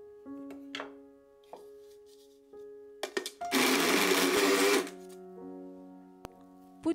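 A kitchen blender whirs through chunks of raw pork loin in a burst of about a second and a half, loud against a quiet room with a steady low hum and scattered light clatter before and after.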